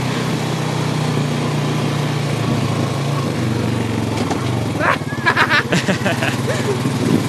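A small ATV engine drones steadily as it climbs dirt hills in low gear, then revs up sharply and roughly near the end as throttle is added, with people talking over it throughout.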